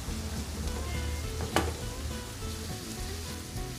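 Minced meat and a large chopped tomato fry together in a pot for a Turkish karnıyarık, a dense steady sizzle with soft stirring scrapes and one brief sharp clink.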